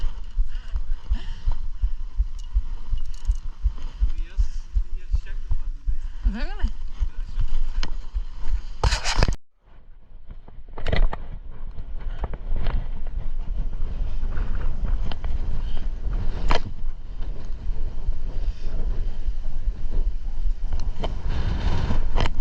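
Strong wind roars and buffets an outdoor microphone during a ride, a loud, steady low rumble that briefly drops out near the middle before surging back.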